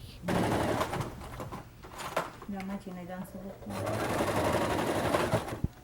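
A domestic sewing machine stitches fabric for a tart carrier bag, a steady mechanical whirring hum with brief pauses, close by, while someone speaks French over it.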